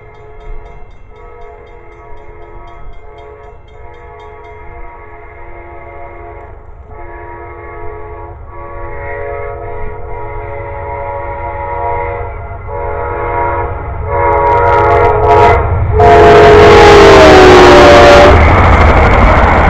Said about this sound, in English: Goes another train.